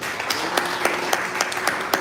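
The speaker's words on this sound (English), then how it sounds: "Let's clap for Tracy again." A small audience at an investment forum in Toronto gives a short burst of applause, with a few distinct claps standing out over a thin, steady patter of hands.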